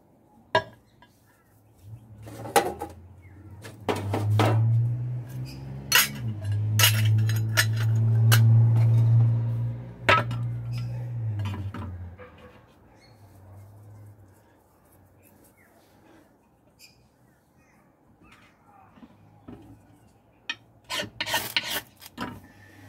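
A 10-inch ferro rod scraped to throw sparks onto jute, heard as several sharp, close rasping strikes in short bursts, with a steadier scraping stretch in the middle and a quick flurry near the end.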